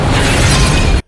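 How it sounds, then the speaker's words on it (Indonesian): A bomb goes off in a police station cell in The Dark Knight, a loud, dense roaring blast with a crackling burst that stays strong for about a second, then cuts off sharply. "mengaktifkan bom dalam perut dan terjadilah ledakan hebat"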